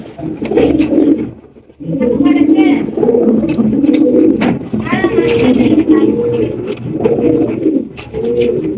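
A pair of Blue Shirtin pigeons coo close by in a loft, giving steady, repeated low throaty coos with only brief pauses between them.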